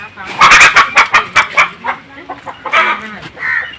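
Country chicken clucking in a household in Dindigul district, Tamil Nadu, a series of short, close clucks with people talking over them.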